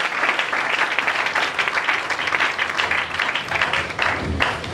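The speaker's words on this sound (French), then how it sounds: "Est-ce qu'on peut acclamer pour le Seigneur?" A church congregation bursts into steady, dense applause that holds loud and unbroken throughout, with faint crowd voices mixed in.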